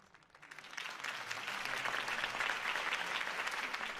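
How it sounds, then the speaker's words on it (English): Crowd applause after a campaign speech in a Batman animated film, rising from quiet within half a second into sustained, dense clapping from many hands that carries on steadily to the end. "could have heard that applause"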